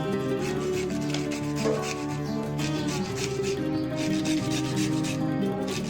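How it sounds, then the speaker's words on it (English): Carrots scraped over the medium or large holes of a hand grater, giving a steady rasping rub that repeats in quick strokes, close and continuous with no talking. "grate the carrots by using medium or large hole grater to achieve the texture"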